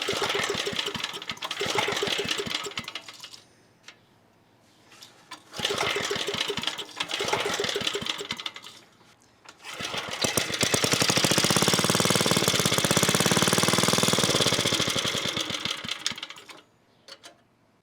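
A cheap portable generator engine fires up in rough sputtering bursts that die away, then catches and runs for several seconds with a loud, fast, clattering mechanical drone up close before stopping.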